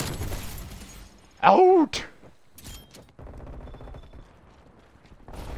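Enemy turret gunfire in a first-person shooter video game, a short, loud burst of rapid shots standing out from quieter game sounds, with a player shouting briefly.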